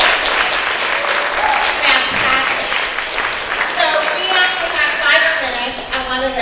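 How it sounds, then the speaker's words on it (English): Audience applause at a Plan Bay Area public workshop in Marin, a steady, loud round of clapping from a room full of people that fills the whole stretch, with some voices mixed in. "Let's do a round of applause for them."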